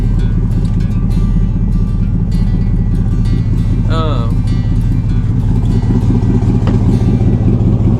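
A repaired truck engine idles steadily after fuel pump work, a continuous low rumble running close and loud throughout, with brief chirps and a voice over it.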